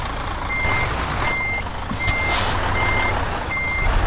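Euro Truck Simulator 2 game truck reversing alarm: five evenly spaced electronic beeps over a steady diesel engine rumble, with a brief hiss between them.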